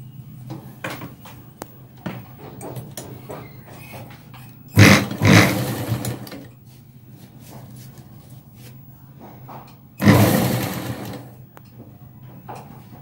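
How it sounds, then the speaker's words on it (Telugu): A sewing machine stitches elastic onto lehenga cloth, two loud bursts of rapid stitching about five seconds apart, with quiet handling and clicks of the fabric between them. "ఇలా సూదిని మనం ఇలా ఎలాస్టిక్ పైన దింపి పట్టుకుని క్లాత్ని ఈ విధంగా సాగదీసుకుంటూ స్టిచ్ వేసుకోవాలండి."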